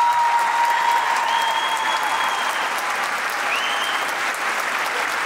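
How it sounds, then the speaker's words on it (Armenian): A large audience at a children's dance academy anniversary concert in the Dolby Theatre applauds the young dancers with loud, sustained, even clapping and no pause. "միան խնդրեմ ծափարենք մեր երեխեքին"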